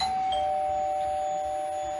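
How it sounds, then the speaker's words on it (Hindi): A doorbell chimes at home, a steady electronic tone held across the whole stretch with no voices. "कुछ देर के बाद ही दरवाजे की घंटी बजी।"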